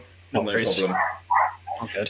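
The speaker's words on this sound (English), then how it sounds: "I apologize for the barking dog." A dog barks a few times in the background, yelping bursts under and between calm conversation during a tabletop game session.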